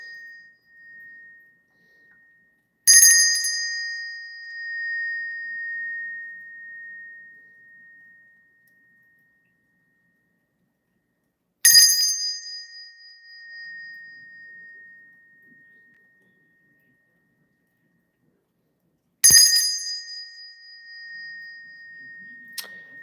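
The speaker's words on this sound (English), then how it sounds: "let me ring this bell" A ritual bell is struck three times with long gaps, each strike a bright metallic ping that rings on and slowly fades into silence before the next.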